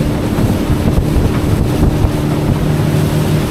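Motorboat cruising on Umiam Lake in Meghalaya, a loud steady engine drone mixed with wind rush and water splash, close and continuous without speech.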